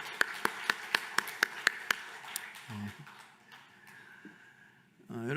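Rhythmic group clapping in unison during a church gathering, about eight sharp evenly spaced claps in the opening two seconds, followed by quieter murmuring and voices.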